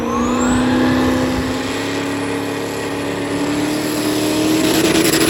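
A drag racing car launching down the strip lane, a loud engine whine climbing steadily in pitch as it accelerates away, with no talk.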